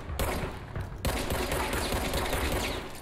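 Sustained rapid gunfire from a strange bullet-like weapon in the video game Control, a dense unbroken barrage of shots after a brief quieter gap near the start, loud and close throughout.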